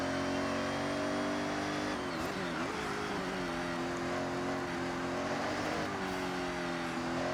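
A Ferrari F80 engine in Forza Horizon 6 holds a loud, sustained high-revving whine throughout, with the pitch dipping and climbing as the car accelerates and shifts through corners, and no talk over it.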